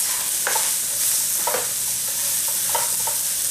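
Celery sizzles in a pan while being stir-fried with quinoa and portabella mushrooms, a steady bright hiss broken by several distinct scraping stirs, close and loud, with no voices.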